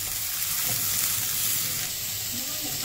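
Vegetables for veg Hakka noodles fry in a pan while being stirred, giving a loud, continuous close sizzle with faint scraping underneath.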